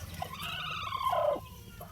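A brassback gamefowl stag gives a short clucking call, a single drawn-out vocalization rising then dropping, fairly close and moderately loud over low background noise.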